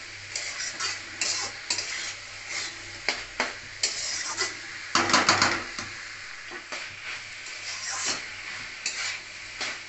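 Dried fish sizzling and frying in a pan while being stirred, with repeated scraping strokes of a utensil over a steady hiss, fairly close and alone without talk.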